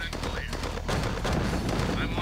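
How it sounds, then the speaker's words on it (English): Continuous rattling gunfire and dull blasts from a battle in Command & Conquer Tiberian Sun, dense and steady, with a faint voice underneath. "What is shooting?"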